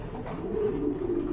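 A pair of pigeons for sale at a pigeon market gives soft, low cooing, a steady close murmur with no talk over it.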